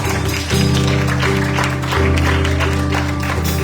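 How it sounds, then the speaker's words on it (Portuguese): Church congregation applauding during a worship service, clapping heard under sustained music with strong low tones and organ-like chords, fairly loud throughout. "Você pode aplaudir bem forte ao Senhor"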